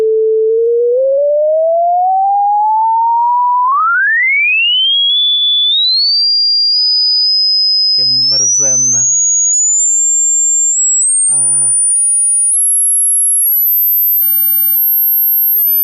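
A pure sine tone glides steadily upward from low to very high pitch, loud and alone, with brief talk breaking in twice near the end.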